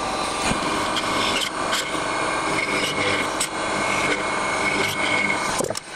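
A loud, continuous high-pitched machine whine with grinding and rasping as a bit cuts into wood, steady throughout.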